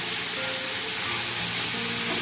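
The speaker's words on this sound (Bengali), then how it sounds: "তো চাল কুমড়োটা খুব ভালো করে ভাজবো।" Ash gourd pieces fry in a pan with coconut, giving a steady, close sizzling hiss for a couple of seconds with no talking.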